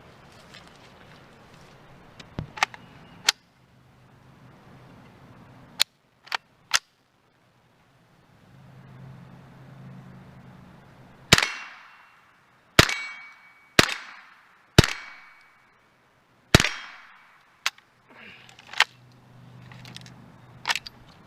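An AKT-98 .22LR AK-style training rifle fires a series of sharp, close cracks, mostly single shots spaced a second or more apart with some quick pairs, separated by short stretches of quiet.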